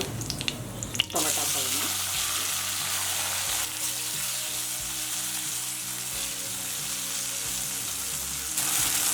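Sour tomatoes fry in a pan with mustard seeds, chillies and curry leaves for pepper rasam, giving a steady, close sizzle with occasional stirring scrapes and no talking.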